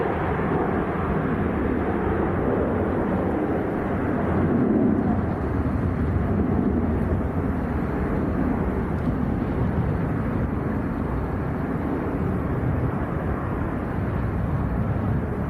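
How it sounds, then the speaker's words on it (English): A Jet2 airliner bound for Fuerteventura climbs away just after lifting off from Leeds Bradford Airport, giving a sustained, fairly loud low engine rumble that holds steady for the whole stretch without voices. "Just getting airborne."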